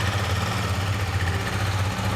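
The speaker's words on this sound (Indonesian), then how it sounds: "suara knalpotnya mainkan" Single-cylinder motorcycle exhaust idling, a budget rival to the Honda CB, giving a steady low throb with a rough mechanical edge, heard close and alone.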